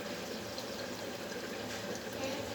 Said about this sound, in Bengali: আমি এবার সাদা তেলটা দিয়ে দেবো